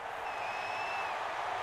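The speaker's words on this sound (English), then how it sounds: "How about some applause for the defense there?" Stadium crowd in the College Football 23 video game cheers for the defense in a Vanderbilt versus Alabama matchup: a steady, dense wash of crowd noise with a thin whistle-like tone drifting across it.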